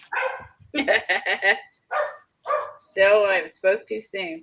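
A dog barks several times nearby in a series of sharp, clustered barks, with someone talking before and between them.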